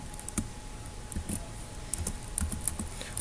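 Code is typed on a computer keyboard, with quiet, irregular key clicks tapping along at a moderate pace over a low room hum, with no talk.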